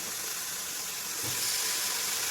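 Washed beef lands in a pan of sizzling masala, with a continuous loud hiss that swells slightly partway through and holds steady, with no voices.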